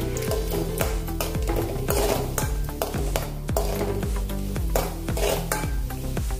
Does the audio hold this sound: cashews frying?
yes